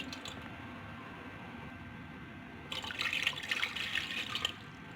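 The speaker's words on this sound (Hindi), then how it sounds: "एक पैन लिया है, इसमें मैं 2 कप पानी डालूँगी।" Water runs into a cooking pan, two cups' worth, a steady splashing pour that swells for about two seconds over a low hum of background noise before cutting off.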